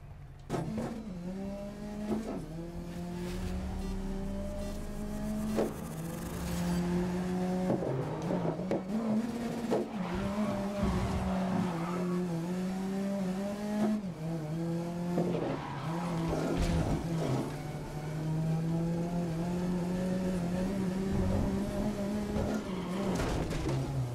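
Race car engine note from Grid 2019, the car bouncing over curbs through tight corners, with steady loud revving, rising and falling pitch as it shifts gears, and repeated tire skids throughout.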